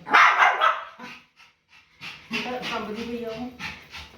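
A female dog in an unfamiliar place, heard close up with quick barks and yips at the start, then rapid panting and further barking, with voices in the background.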